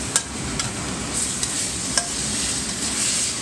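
Steak stir-fries with sauces in a hot wok over high heat, a steady close sizzle broken by a few light metallic clinks of a utensil.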